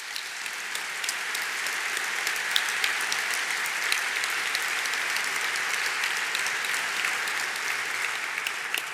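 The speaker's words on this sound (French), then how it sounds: "je vous demande de les applaudir chaleureusement pour leur témoigner notre" Warm, sustained applause fills a hall at the opening of the UIA Congress in Luxembourg, a dense, even wash of many hands clapping with a few sharper claps standing out.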